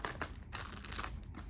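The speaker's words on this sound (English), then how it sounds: "they are all wrapped in a little black plastic bag inside" A small black plastic bag holding Disney pins crinkles and rustles in quick, close bursts of dry crackling for a second or so, without any talking.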